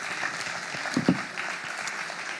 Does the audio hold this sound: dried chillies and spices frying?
no